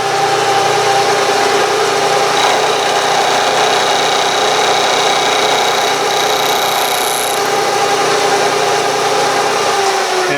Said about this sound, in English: now I'm ready to mill it right down